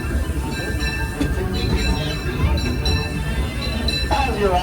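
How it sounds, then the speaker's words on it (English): The Disneyland Railroad train rolls into Toontown Depot and slows to a stop, with a continuous rumble of wheels and faint brake squeals near the end. Announcer speech plays over it. "please remain seated as the train comes to a full complete stop"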